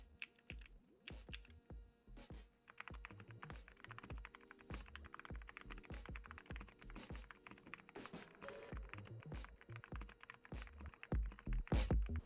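Fast typing on a Tiger 80 Lite keyboard with a PC plate, full foam and unlubed Akko Haze Pink linear switches, a dense close patter of soft keystrokes and occasional heavier thocks.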